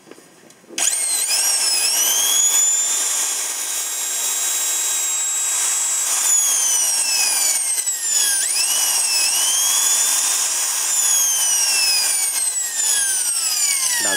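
A Japanese 100-volt handheld power tool with a 13 mm chuck whines steadily at high pitch after a sudden start, its tone sweeping down and back up as it slows and reverses direction.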